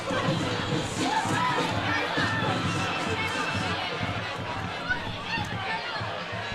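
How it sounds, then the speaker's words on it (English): A large crowd at a high school football game cheers and chatters in a dense, steady roar that carries through the whole stretch, with scattered shouts over the top. "what a great crowd tonight"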